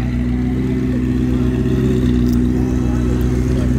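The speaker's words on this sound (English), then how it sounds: "You got the AMG GTR Pro rolling in." Mercedes-AMG GT R Pro sports car rolling in at a supercar meet, a steady loud engine drone with a low rumble under chatter from nearby voices.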